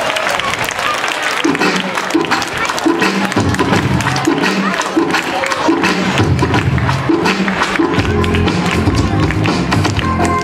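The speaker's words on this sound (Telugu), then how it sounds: "క్లాప్స్ కొట్టడం అందరూ." An audience claps steadily through a school silver jubilee ceremony, with dense, continuous applause filling the hall while voices speak over it and a low tonal backdrop hums underneath.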